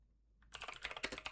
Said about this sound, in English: Don't mind my typing, y'all.